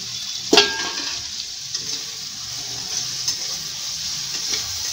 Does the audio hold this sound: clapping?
no